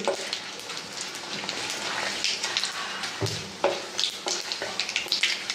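Urad dal, two dried red chilies and asafoetida crackle in hot oil as a tempering for tomato saar, a close, patter-like sizzle with irregular pops and stirring, with no talking.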